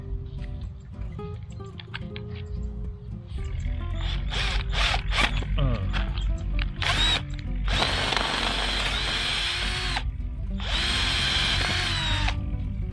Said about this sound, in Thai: เดี๋ยวผมจะเจาะเอียงๆหน่อยนะฮะ